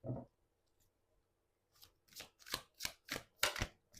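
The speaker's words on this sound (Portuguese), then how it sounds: "Vou baralhar mais um pouquinho." Tarot cards shuffled by hand, a quick run of crisp riffling flutters and soft slaps after a brief pause, close and moderately quiet with no talk.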